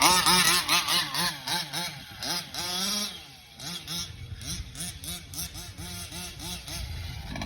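A 1/5-scale gas-powered RC truck's small two-stroke engine runs loud and close after a pull start, revving up and down in buzzy, chainsaw-like bursts with a brief dip partway through.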